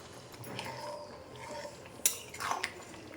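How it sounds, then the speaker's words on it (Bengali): A spoon stirs pointed gourd (potol) with boiled potato in a pan, giving soft scraping and a few sharp metallic clinks against the pan, close and fairly quiet. "এবার পটলটা একটু নেড়ে চেড়ে নেব।"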